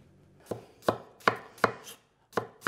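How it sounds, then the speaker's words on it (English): A knife chops an onion on a cutting board in a Chinese takeaway-style home kitchen, seven sharp, evenly spaced thuds with a brief pause near the end, close and clear with no talk. "There's my onion chopped."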